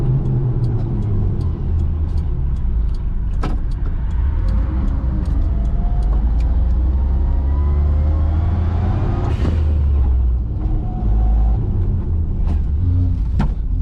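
A 1990 Suzuki Jimny's small engine drones steadily while driving, a loud continuous rumble with road noise and occasional sharp knocks and clicks from the cabin, no talking.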